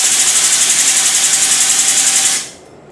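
An air compressor drives a motorcycle lift, giving a steady, loud hiss with a pulsing mechanical hum that runs evenly and then cuts off abruptly near the end.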